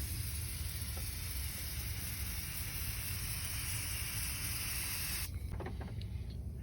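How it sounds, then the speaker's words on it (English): A steady, hissing spray of engine cleaner from an aerosol can over a car engine runs continuously and fairly close, cutting off abruptly near the end with a few faint clicks after. "so you just spray it all over"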